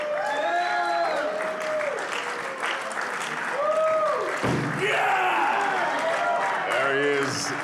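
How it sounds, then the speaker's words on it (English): Loud applause and cheering from a crowd at an arm-wrestling press conference, with a continuous clapping wash under a compère's amplified voice. "Make some noise for the Polish giant, Alex Cadet."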